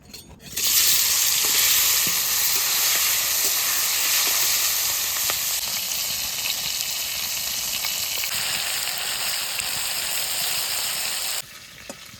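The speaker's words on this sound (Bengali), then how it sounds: "সর্ষের তেল তেল গরম হয়ে গেছে এবার মাছটা দিয়ে ভেজে নেব" Salt-and-turmeric-rubbed fish drops into hot mustard oil and fries with a loud, steady hiss and crackle close by for about eleven seconds before it cuts off, with no voices.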